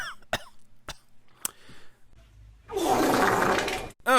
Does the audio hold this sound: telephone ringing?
no